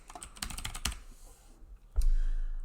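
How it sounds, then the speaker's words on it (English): Fingers type a word on a computer keyboard, a quick burst of close key clicks followed by a brief pause and a heavier thump, with no voices. "So I'm going to type the word external here."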